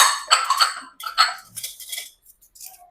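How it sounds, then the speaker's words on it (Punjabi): Clattering dishes and clinking spoons in short bursts, with splashing water between, close and fairly loud. "ਆ ਲਓ ਚਮਚੇ ਵੀ ਸਾਫ਼ ਕਰਤੇ ਜੇ"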